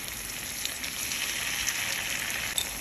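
Chili, garlic, dried chili and roasted chili paste fry in a pan with a steady, close sizzle and crackle that holds without pause and with no talking.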